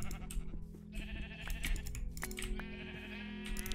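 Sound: sheep bleating in Minecraft video game

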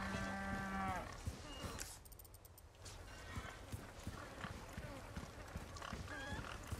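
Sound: pig grunting in Resident Evil video game

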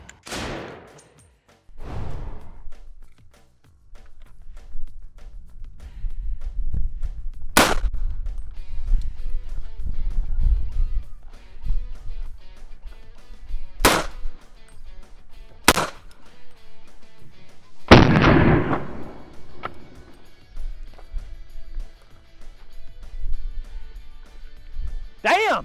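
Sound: 300 Blackout rifle rounds fired point blank at body armor

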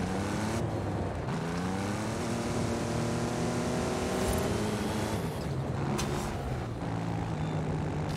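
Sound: car engine at full throttle in video game Forza Horizon 5

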